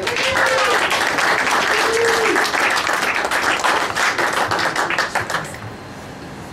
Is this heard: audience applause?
yes